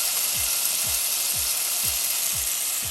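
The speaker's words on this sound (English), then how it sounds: "what we're going to be doing is sauteing our seasonings and our vegetables before we add our coconut milk" Green seasoning sizzling in hot olive oil in a pan for Jamaican-style steamed fish and okra, a loud continuous hiss with a spoon knocking rhythmically about twice a second as it is stirred.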